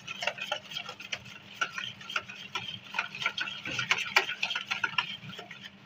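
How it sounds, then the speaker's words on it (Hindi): A spoon stirs a sugar and milk mixture in a bowl for egg paratha batter. Quick, irregular scraping and light clinks against the bowl continue steadily and close by, with no voices. "इसे मिक्स करेंगे।"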